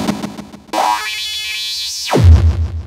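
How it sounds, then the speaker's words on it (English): A burst of extratone hardcore music at an extremely high BPM, with kicks so fast they fuse into a buzzing pitched tone that sweeps upward and drops away into rumbling bass, loud and with no talking over it. "there's this weird genre called extra tone, which goes like BPMs,"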